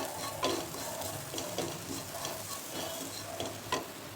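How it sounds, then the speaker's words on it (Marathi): Asafoetida and ginger-garlic paste sautéing in a pan: a soft continuous sizzle broken by irregular spatula scrapes and light taps, close but fairly quiet, with no voices. "थोडेसे हिंग, आलं लसूण पेस्ट, आणि हे छान परतून घ्यायचे."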